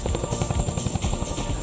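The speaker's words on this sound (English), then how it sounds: "We talk about the Chinook being a tandem rotor helicopter and it being an innovation." Chinook tandem-rotor heavy-lift military helicopter, a loud, close rhythmic thumping of twin rotor blades over a steady turbine whine, pulsing rapidly and evenly throughout.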